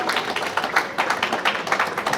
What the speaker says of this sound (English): I would want you to clap for yourself